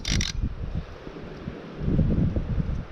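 Strong wind gusts across a frozen river during winter fishing in the Komi Republic, buffeting the microphone with low rumbling bursts that swell and ease, and a short hissing burst at the very start.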